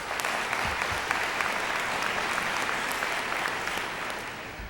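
A room full of people at a school board meeting claps steadily, a dense sustained round of applause that holds at an even level throughout.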